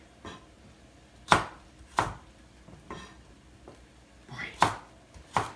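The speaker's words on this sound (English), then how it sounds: "I'm going to make some celery strips" A knife chops celery into strips on a cutting board, with about six sharp, separate cuts at an uneven pace and quiet gaps between them.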